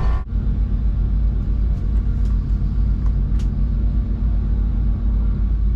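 A modern street HEMI car idles at a drag strip before a launch, a loud, steady low rumble that holds throughout with faint higher ticks above it.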